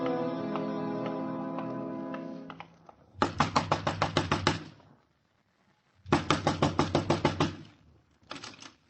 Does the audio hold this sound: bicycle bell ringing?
no